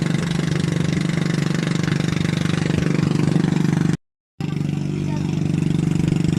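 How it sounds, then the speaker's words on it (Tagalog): A steady motorboat engine drones loudly and continuously while towing a floating cottage off Calatagan, Batangas, chugging evenly with a brief dropout partway through. "So hinila-hila na ng motor bangka yung sinakyan nating floating cottage."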